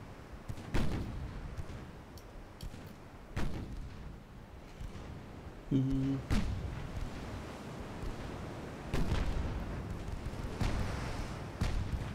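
Naval artillery fire in the Dreadnought Improvement Project video game, with scattered distant booming shots over a steady rumble of wind and sea, and a short tonal signal partway through.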